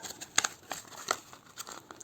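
A tomato seed packet is handled close up, with sharp intermittent crinkles and rustles of thin packaging, quiet, with no voices.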